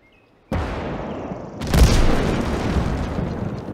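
Heavy artillery gun firing in the WWII strategy game Call to Arms: Gates of Hell, Winter War setting: a sudden loud boom followed by a second blast and a long rumbling roar that slowly fades, no talk.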